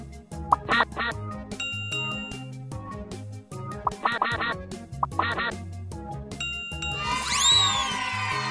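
Cartoon ducks quack repeatedly in the Teach Your Monster to Read phonics game, bright squawks arriving in bursts over a bouncy game music backdrop, with a rising magical chime near the end.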